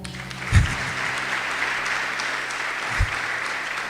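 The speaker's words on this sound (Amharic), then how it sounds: "ብትፈልጉ አጨብጭቡ" Audience applause at a church fellowship gathering: a crowd claps steadily for about four seconds, with a couple of low thumps standing out in the dense patter.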